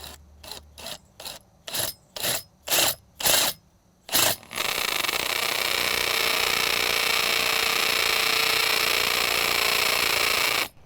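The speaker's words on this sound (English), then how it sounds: "I just want to go nice and straight, nice and slow, drill this out" A power drill stutters in about eight short bursts, then runs continuously and loudly at a steady pitch before stopping, while drilling out a bolt hole for a deck post.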